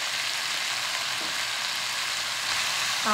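Beef pieces fry in a very hot pot, giving a loud, steady sizzle that holds its broad hiss without pause from start to finish, with no voices over it.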